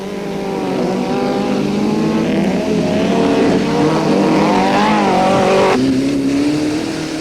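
A Motortech Chenoweth single-seater off-road race car roars past a slower back marker at Sun City in 1991, its loud engine note climbing and shifting, then dropping sharply in pitch near the end as it passes.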